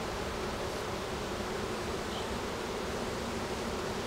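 Honeybees swarm around an opened hive during a colony split, a dense, steady buzz of many wings filling the air evenly and without pause.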